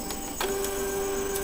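A Canon G2010 inkjet printer runs its ink-flushing cycle: a steady mechanical whir with a thin, constant whine and a faint clack near the start, heard up close with no talking.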